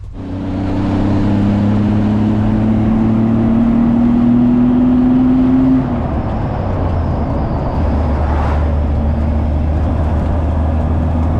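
A 1974 Toyota FJ40 Land Cruiser drives along with a steady, loud engine drone and low rumble, its pitch rising slowly as it pulls before settling into an even cruise; no voices.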